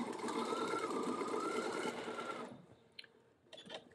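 Sewing machine running steadily for about two and a half seconds while stitching a paper-pieced pineapple quilt block, then stopping, leaving a quiet room with a few faint clicks and handling sounds.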